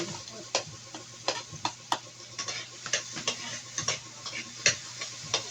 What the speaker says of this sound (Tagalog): Unahin muna ang sibuyas at bawang ay pagsamahin natin igisa.